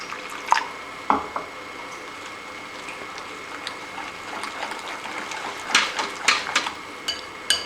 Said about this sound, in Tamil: கொஞ்சம் தண்ணி ஊற்றிக்கலாம்.